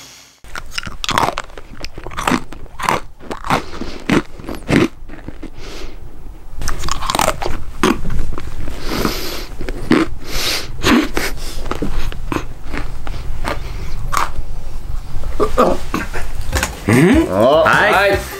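Dry dog food is crunched and chewed close to the microphone in an ASMR recording. Dense, irregular crunches and bites continue throughout and grow louder and busier in the second half.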